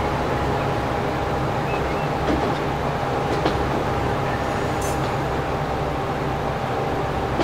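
Continuous rumble and clatter of a high-speed tilting train in the video game Transport Fever, running steadily and fairly loud, with faint clicks and a brief hiss partway through; no talking.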